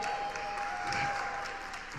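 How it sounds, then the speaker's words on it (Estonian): An audience at a business pitch event breaks into loud, dense clapping that fills the whole two seconds without a pause, with a faint steady tone running underneath. "teeme suure aplausi!"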